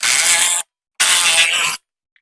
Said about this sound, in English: put it the rest of the way with our socket